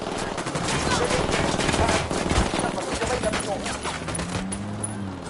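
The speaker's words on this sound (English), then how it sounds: "I'm opening fire on these shitheads" Rapid bursts of gunfire in a PS4 shooter game crackle densely and continuously at close range, overlapping a voice talking throughout.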